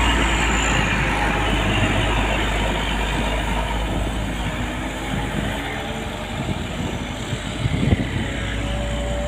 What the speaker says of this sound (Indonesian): Bus TKM bosku, jurusan Tasik Cikatomas, Solo, dari arah Tasik Malaya.